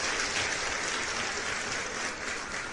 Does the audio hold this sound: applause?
yes